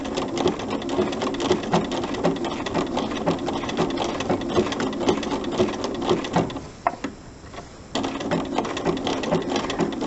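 A sewing machine stitches applique around a curve, its steady rapid needle chatter running loud and close, with a brief pause near the end before the stitching resumes.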